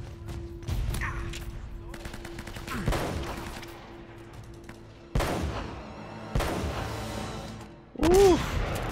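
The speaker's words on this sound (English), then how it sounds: "people are shooting me" Gunfire in the video game Uncharted: Drake's Fortune, bursts of rapid shots and thuds of varying loudness over a steady game tone, with sudden louder volleys, while people talk over it.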